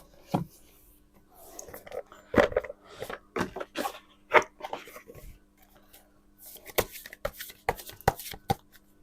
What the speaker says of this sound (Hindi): मैं एक दूसरे डेक से भी निकालना चाहूँगी।